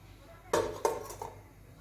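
A metal cake tin being placed into a preheated pressure cooker makes a few clanking metallic knocks in quick succession, heard close by in a quiet kitchen.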